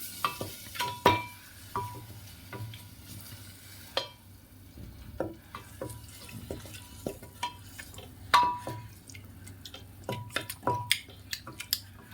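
A spoon stirs carrot halwa with condensed milk in a pan, making repeated scraping clinks against the metal over a soft, steady sizzle, close and unhurried, with no talking.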